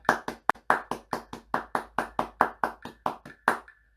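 Hand claps beat out a steady rhythm of about sixteen sharp, evenly spaced strikes, close and fairly loud, practising a counted pattern for alto trombone in a tune.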